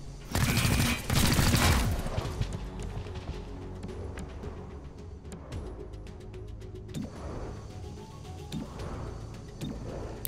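Gunfire in XCOM Chimera Squad: a loud burst of rapid shots at the start, followed by scattered sharp cracks and impacts over steady combat noise.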